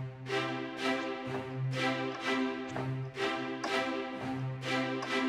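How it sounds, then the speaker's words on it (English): Spitfire Audio epic strings play a short waltz pattern with a steady one-two-three pulse, a low sustained note under repeated bowed chords, full and clear with no talking. "I have some epic strings from Spitfire Audio."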